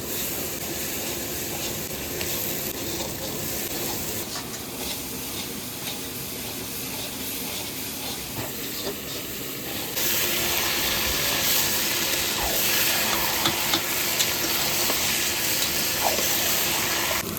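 Chicken pieces added to hot oil and spices reddened with Kashmiri chilli powder, giving a loud, steady, close hiss of sizzling and frying that grows stronger partway through, no voices.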